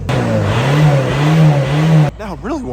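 An old '90 race car engine warming up, revving loudly and close with a rough, uneven drone that holds and swells, then drops off abruptly into short wavering sounds.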